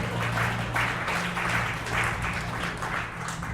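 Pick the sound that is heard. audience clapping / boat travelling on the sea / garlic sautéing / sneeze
audience clapping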